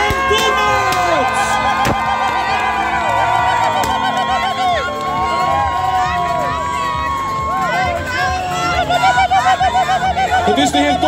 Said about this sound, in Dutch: Lokeren, uw applaus voor Michael van Dommert.